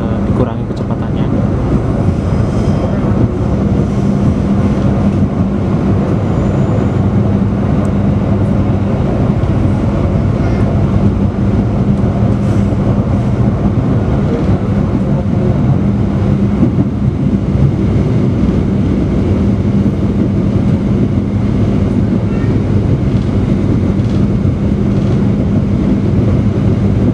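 Argo Lawu passenger train running through the Notok tunnel, a loud steady enclosed roar and rumble with low drone that persists unbroken throughout, heard from inside the carriage.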